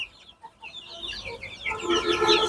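Several native hill chicken chicks cluck and chirp close by, short overlapping calls that grow busier and louder toward the end.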